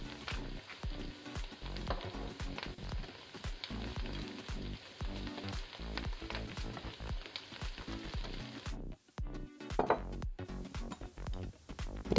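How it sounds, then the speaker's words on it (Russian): Mushrooms fry in a pan with a continuous crackling sizzle of oil, steady and close, with a few brief clinks and pauses near the end as the pan is handled. "Грибочки поджарились."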